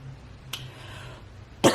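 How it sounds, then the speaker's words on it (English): A single short cough at the end, preceded by a faint click and quiet room tone. "And I coughed some more"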